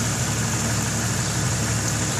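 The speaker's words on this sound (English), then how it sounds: "She's idling nice and smooth." A Jeep 4.0 engine idles steadily and smoothly after fresh spark plugs, a continuous low rumble with an even, unbroken drone and no shakes or misses.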